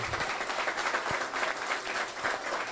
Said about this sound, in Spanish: quiero que demos un aplauso para el pueblo palestino